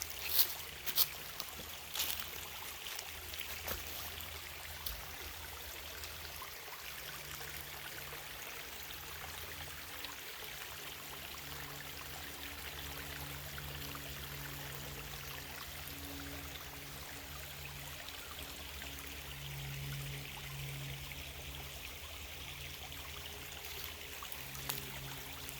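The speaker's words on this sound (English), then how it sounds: "A little waterfall." A small garden waterfall under rhododendrons trickles and splashes in a steady, soft, continuous wash, with a faint low hum of an airplane passing overhead throughout.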